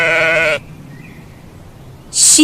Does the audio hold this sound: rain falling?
no